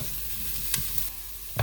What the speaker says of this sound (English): We're going to go ahead and stir this and let this cook for 5 minutes until it starts to soften up the onion.